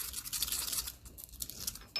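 Sandpaper scrubbing a small cork washer from the fuel tank tap of a 1954 Ferguson TEF 20 diesel tractor, heard as close, rapid scratchy strokes in a steady back-and-forth rhythm.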